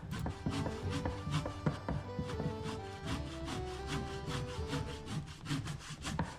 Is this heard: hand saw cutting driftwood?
yes